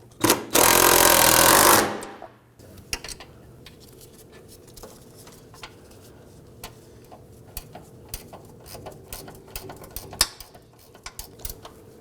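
A power tool tightens the fuel tank strap bolts on a 2005-2009 Subaru Legacy 2.5L H4: one loud, sustained burst of about a second and a half, then quieter scattered clicks and taps.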